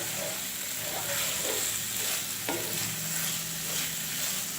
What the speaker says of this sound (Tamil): நெய் கொஞ்சம் ஊற்றிட்டு இப்படி கிளறி விடுங்க.